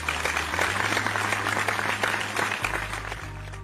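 A church congregation applauding and acclaiming the Lord, steady crowd clapping with a few cheers, moderately loud and continuous throughout, with low music or hum underneath.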